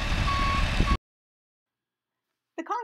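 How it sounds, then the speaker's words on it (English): A concrete truck arriving at a farmhouse foundation pour gives off loud, steady reversing beeps over its engine rumble, cutting off abruptly before a brief burst of sound returns at the end. "Concrete truck is coming."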